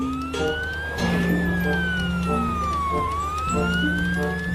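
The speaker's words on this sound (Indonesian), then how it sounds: "Lihat, ada mobil ambulan." Toy ambulance siren wailing in a steady rising-and-falling sweep, fairly loud and close, with a repeating electronic tone pattern beneath and no talking.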